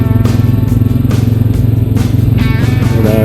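Honda Rancher 420AT ATV on a ride with new 25-inch Swamp Lite tires on ITP SS 216 wheels: a loud, close, steady engine drone with a pulsing throb and light clatter throughout.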